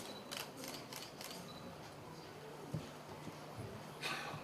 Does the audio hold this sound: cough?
no